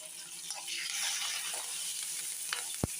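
Curry leaves go into a hot pan and are stirred while cooking a mango pachadi. A broad, close sizzle carries on throughout, with light stirring scrapes and a single sharp knock near the end.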